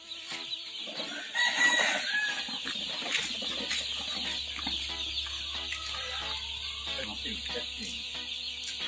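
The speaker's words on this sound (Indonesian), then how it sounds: "jom kita pergi tengok anak ayam kita" Chickens cluck and a rooster crows nearby, several birds calling over a steady low hum, with a brief flutter of wings early on.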